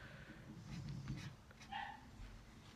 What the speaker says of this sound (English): sorry, my dog barking